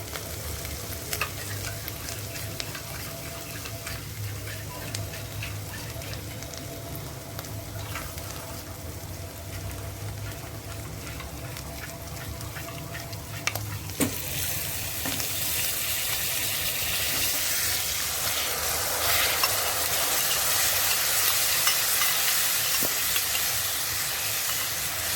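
A yogurt, dry ginger and fennel mixture hits a hot pan for pumpkin rogan josh, a steady sizzle that suddenly swells into a louder, hissing fry as it is stirred, close and without talking.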